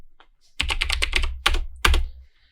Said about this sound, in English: So what we're going to do here is start typing a command